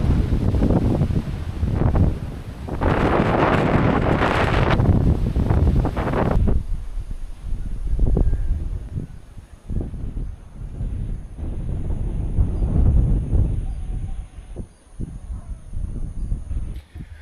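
Gusty wind rushes and buffets a microphone at a family cabin in the Mt. Banahaw foothills, swelling into loud bursts and easing off in waves, with a faint rustle between gusts.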